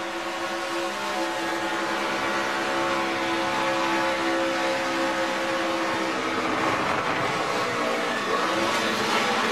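Race trucks in a Camping World Truck Series race roar through turns 1 and 2, a loud continuous engine drone with rising and falling pitch as the pack passes, steady and dense throughout.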